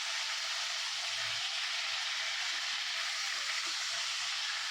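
Brinjal (thorny eggplant) sautéing in hot oil for a Tamil eggplant chops dish gives a steady, broad frying hiss throughout, close and even, with no talk.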